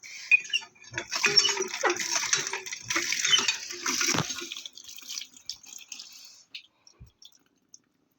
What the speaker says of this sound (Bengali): স্নান করে ওগুলো একটু সাফ দিয়ে ভিজিয়ে রাখবো, একটু পরেই কেসে নেবো। একটু জল দিয়ে রাখি।